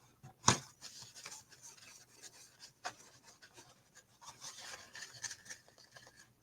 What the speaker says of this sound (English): take my paper towel and squirt a little alcohol on it, wipe it off, and dry it